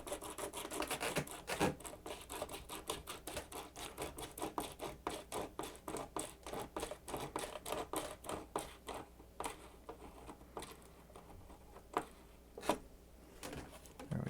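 A screw being tightened into a Freewing Stinger 64 sport jet model with a ratcheting driver, giving a steady run of close, quiet rasping clicks at an even rhythm with a few louder ticks near the end.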